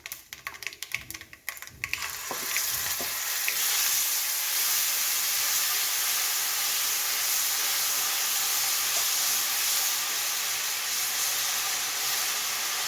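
Tamarind paste hits hot oil over a low flame while making ginger pickle, first crackling and popping in bursts, then settling into a loud, steady sizzle that carries on alone.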